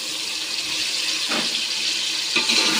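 Leftover water from boiling beef is poured into a rice mixture for beef pulao, a steady close splashing pour with a couple of brief surges.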